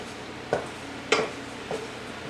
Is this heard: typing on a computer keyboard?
no